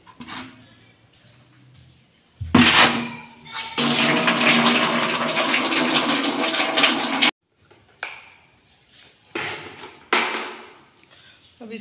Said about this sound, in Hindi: पानी पहले भर लेते हैं